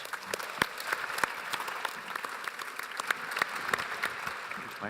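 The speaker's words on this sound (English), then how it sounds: "One more huge round of applause for the panel." A conference audience applauds a panel at an agriculture plenary session, a sustained round of many overlapping claps at moderate level, with occasional louder individual hands standing out near the front.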